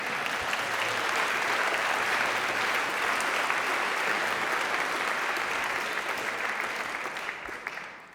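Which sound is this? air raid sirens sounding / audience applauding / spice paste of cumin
audience applauding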